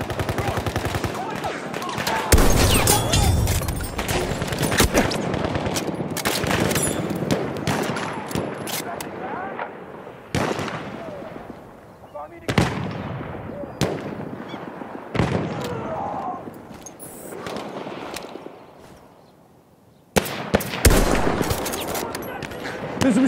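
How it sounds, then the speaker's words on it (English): Repeated bursts of automatic machine-gun fire in a first-person shooter, loud, sharp volleys broken by short pauses, with other shots and battle noise mixed in and a brief quiet stretch near the end. "There's a machine gun!"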